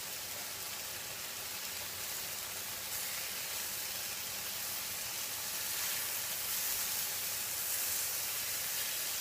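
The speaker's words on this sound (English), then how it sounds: "So let's get ready to turn our Salisbury steaks over." Salisbury steaks with onions browning in a big pan, giving a continuous, even sizzling hiss that stays close and steady throughout, with no talk.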